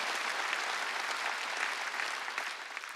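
A church congregation applauds during a Sunday worship sermon, a dense, continuous burst of clapping that stays strong and steady throughout.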